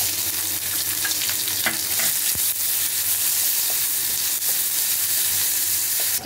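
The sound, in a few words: onions frying with dried chilli and bay leaf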